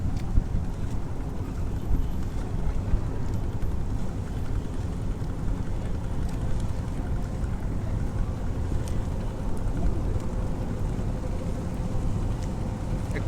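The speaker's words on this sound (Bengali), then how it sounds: "একটা ট্রলার আইতাছে" A trawler boat comes along the river near Barisal launch terminal, its low rumbling engine continuous beneath wind buffeting the microphone, fairly steady in loudness with no talk.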